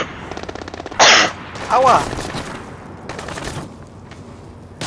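Bursts of automatic gunfire rattle in the stealth shooter Splinter Cell Blacklist, with a loud volley followed by shorter rapid strings of shots while a player talks and cries out.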